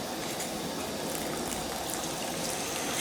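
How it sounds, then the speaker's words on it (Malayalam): Vinegar is poured into a batch of homemade prawn pickle, giving a steady, close hiss of liquid that runs without a break for the whole few seconds, with no voices. "നമ്മൾ ചൊറുക്ക ഒഴിക്കാം"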